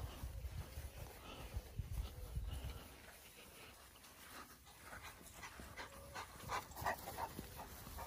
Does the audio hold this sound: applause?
no